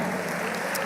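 A church congregation applauds during a worship service, a brief, dense wash of many hands clapping that fills the room evenly and stays steady throughout.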